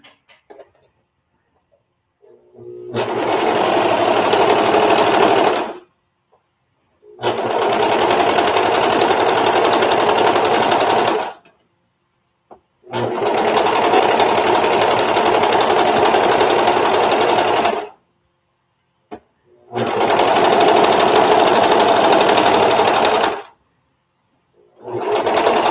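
A sewing machine stitches a rolled hem in four loud, close, even runs of rapid stitching, each several seconds long, separated by brief silent pauses.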